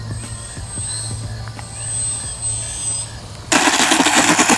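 A small radio-controlled warbird model plane comes down on a grassy strip, its electric motor whining steadily, then a sudden loud burst of rushing, rattling noise as it touches down and rolls.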